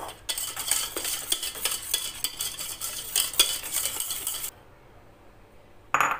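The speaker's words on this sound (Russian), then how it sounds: "и взбиваем, чтобы не было комочков" Custard mixture whisked briskly in a bowl to smooth out lumps, a busy rhythmic scraping and clinking of the whisk that runs steadily, then stops abruptly with a short return at the end.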